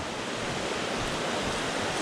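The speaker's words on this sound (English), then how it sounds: "Got a river coming down from here, one coming from here in the middle, one coming from the right." Noland Creek in the Great Smoky Mountains, where several streams meet, rushes in a steady, loud, broadband roar of flowing water with no pauses.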